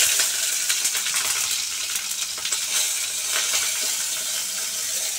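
Five-spice seeds and green chilies sizzle in hot oil for a potato and pointed gourd dish. The frying hiss is loud, close and steady, with no talking.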